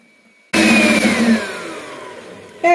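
A hand blender whisking batter switches on abruptly and whirs loudly, its pitch sliding gradually downward as it mixes, close and alone for about two seconds.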